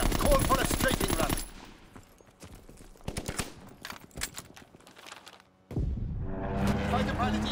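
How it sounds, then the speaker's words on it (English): Fighter plane strafing run in Call of Duty: WWII, with rapid machine-gun fire in tight bursts, loud and close, broken by scattered impacts and quieter gaps before another sustained volley. "Fighter pilot inbound, strafing the target."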